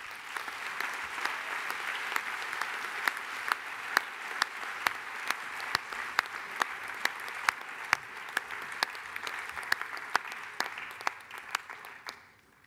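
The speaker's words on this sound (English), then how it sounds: "Give them a round of applause." An audience at a One Young World global business plenary applauds as six delegate speakers walk onto the stage, a sustained even clapping with distinct loud claps near the microphone, fading out at the end.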